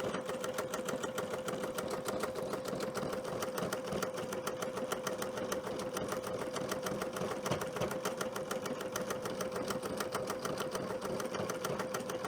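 Home sewing machine running a test wool applique stitch at default settings, a steady close mechanical whir with rapid even needle rhythm that holds unbroken throughout.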